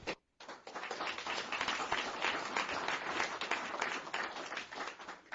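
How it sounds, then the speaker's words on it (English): Audience at a listening forum applauds a presiding judge, a faint, sustained patter of many hands clapping that begins after a short pause and continues steadily throughout. "judges always get the best set of applause"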